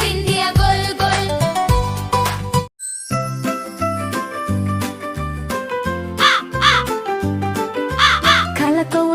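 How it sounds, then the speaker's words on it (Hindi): A black crow sitting on a rooftop caws in a few harsh bursts over bouncy children's rhyme music with jingling bells and a steady beat. "काला कौवा छत पर बैठा, कैसे शोर मचाता है"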